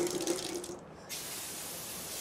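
A steady stream of water sprays hard from a hose onto a person, then breaks off for a moment before resuming at a lower, even hiss, close and without talk.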